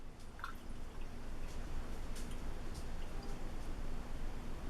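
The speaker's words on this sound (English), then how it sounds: "sneak into the bathroom and just wash hands" Tap water runs steadily into a bathroom sink while hands are washed, a continuous broad hiss with faint dripping and splashing throughout.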